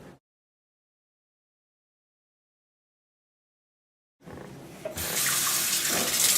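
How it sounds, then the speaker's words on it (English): Water from a running tap gushes into a sink as carrots are washed, starting suddenly after a long silence and growing into a loud, steady splashing stream. "You wet it down a little bit to wash it off, and also so the salt will stick."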